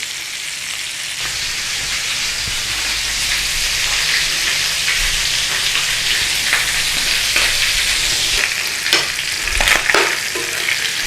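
Bacon and tomatoes for a full English breakfast fry in a pan with a steady, dense sizzle throughout, joined by a few sharper crackles and pops near the end.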